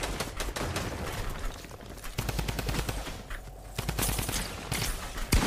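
Rapid bursts of drum gun fire in the Fortnite video game, loud and close, with sharp repeated shots in several long volleys and brief pauses, without talk.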